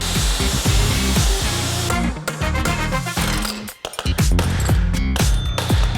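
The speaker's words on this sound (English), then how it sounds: "It's riveted together, so we're gonna grind these off and see what the insides look like." An angle grinder cuts away the rivets holding a padlock together, with a loud continuous grinding whine interrupted by brief dips and bursts of metallic chatter as the disc catches and releases.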